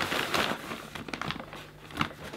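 A paper dust bag inside a Hoover Concept One U3317 Plus vacuum cleaner is handled up close, giving irregular crinkling, rustling and papery crackles with a few sharper taps.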